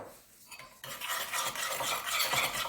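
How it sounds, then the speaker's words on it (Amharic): Salad dressing is stirred in a bowl, a quick steady run of scraping and clinking from a utensil against the sides, starting softly and growing louder and busier, with no talking. "ይሄው ሚክስ ታደርጋላችሁ በደንብ"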